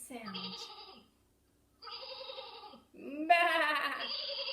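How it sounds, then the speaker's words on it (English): A sheep bleats three times in wavering, nasal calls, the last one longest and loudest, with short pauses between them. "A sheep makes a bah sound."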